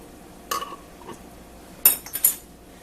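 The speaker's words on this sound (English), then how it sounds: "I need my fork because this is a Tatler lid that's going on here." A metal fork clinks against a plastic Tattler lid on a glass canning jar of packed ground meat, a few separate light taps and clatters in an otherwise quiet kitchen.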